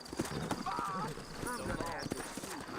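Horses in the Red Dead video game trot with a steady clip-clop of hooves, and a brief whinny comes in, all under continuous talking.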